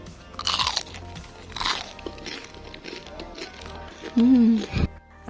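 Crispy fried tofu topped with balado powder is bitten with a sharp, loud crunch followed by brief chewing, close up, with a short spoken remark and a hum of satisfaction.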